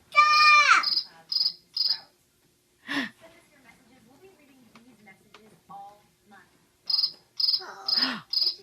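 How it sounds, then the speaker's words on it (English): Crickets in a forest chirp in short, bright bursts near the start and again toward the end, with soft breaths and quiet vocal sounds in the quiet stretch between them. "do you hear the crickets?"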